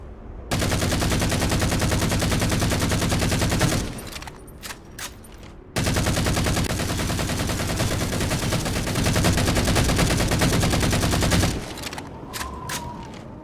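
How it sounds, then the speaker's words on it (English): Heavy, beefy gunfire from a Halo video game, two long sustained bursts of rapid automatic fire, loud and close, each broken by brief pauses with sharp single shots and clicks. "That's how you shoot a gun."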